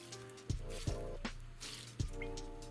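Water poured from a jug onto paper bedding in a worm bin: soft wet splashing and dripping with a few louder plops, close and quiet.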